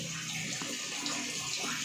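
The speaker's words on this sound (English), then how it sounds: "Pumping water." Water is pumped into a tank on a pig farm, making a steady hiss of flowing, splashing water that continues at moderate level without talk.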